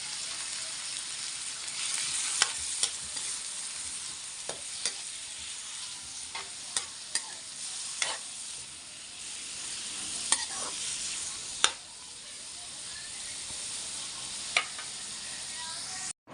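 Pork backbones and liver frying in a hot pan, with a steady sizzle throughout and occasional sharp clicks of stirring, continuing for about sixteen seconds without talk.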